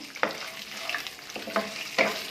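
Dried red chillies frying in a pan for a garlic tomato chutney, a steady close sizzle broken by a few sharp stirring scrapes, with no voices.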